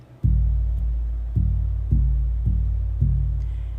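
Low, booming buffalo drum struck in a steady walking pace, about six even beats, each resonant hit fading into the next.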